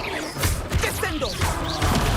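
A Descendo spell is cast in Hogwarts Legacy during a fight, landing as a series of crashing, whooshing impacts with a few heavy thuds spread through the burst.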